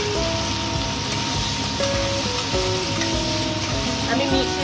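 Onion pieces dropped into hot oil already holding cardamom, cloves and cinnamon, frying with a steady close sizzle and bubbling that carries on without a break, while a few faint tonal clinks sit in the background.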